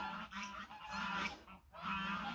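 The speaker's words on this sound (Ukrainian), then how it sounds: "гуси розкричалися" Several loud geese honk in overlapping bursts, close by, with a brief pause midway before the honking resumes.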